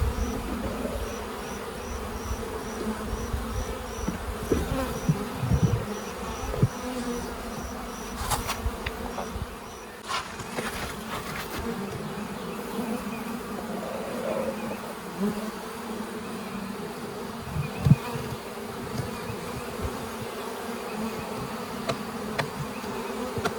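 A small honey bee swarm buzzes steadily and close, a dense droning hum with occasional louder passes of individual bees and faint handling bumps, no speech.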